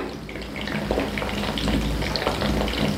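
Mushroom pakoras deep frying in hot oil over a high flame, a steady close crackling sizzle with scattered pops and bubbling throughout.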